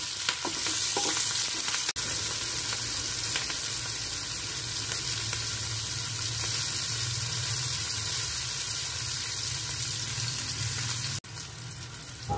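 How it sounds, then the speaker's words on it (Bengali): Green chillies frying in mustard oil with asafoetida and nigella seeds, a steady loud sizzle with occasional stirring scrapes that runs unbroken for the whole stretch, no talking. "সরষের তেলের মধ্যে হিং, কালো জিরে ফোড়ন দিয়ে কাঁচা লঙ্কাগুলো মিক্স করে দিলাম"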